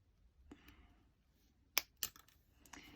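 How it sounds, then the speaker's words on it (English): Wire cutters snip excess craft wire off a pair of herringbone weave wire earrings. A few sharp, close clicks sound in quick succession against a quiet background. "you just do a full circle, but then you trim off the excess wire. So cut that off there."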